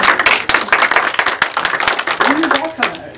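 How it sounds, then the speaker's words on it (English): Audience applause during a film Q&A with filmmaker Emma Seligman, a smallish crowd clapping in distinct, irregular strikes that thin out toward the end, with a voice speaking over the final moments. "Come on, that deserves a round of applause"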